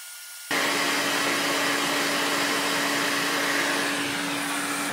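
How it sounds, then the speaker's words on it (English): A hot air rework station switches on and heats the area around a chip on an Xbox One X board, making a loud, steady airy hiss with a faint constant hum that continues to the end. "We're going to heat up the area first, slowly but surely around the chip, let everything get a little bit hot."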